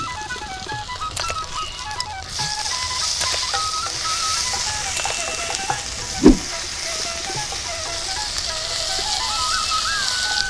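Ginger paste sizzles in hot ghee and oil with bay leaves in a pan, a steady close frying crackle with stirring and a single sharp clatter midway, while faint music plays in the background.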